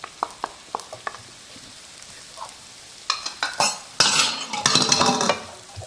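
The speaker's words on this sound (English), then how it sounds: "I cut 1 medium onion in small pieces, and I'm gonna add it to the oil." Chopped medium onion tipped into warm canola oil, with sparse clinks of a utensil against the pan giving way to a loud, building sizzle and scraping stir close by.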